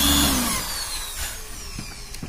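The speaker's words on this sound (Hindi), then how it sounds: "2 सूत के बिट से हम इसमें हॉल करेंगे" Power drill with a 2 sut bit boring a hole for a bolt while building a wooden hand planer, a loud steady whine close by that slowly drops and eases toward the end.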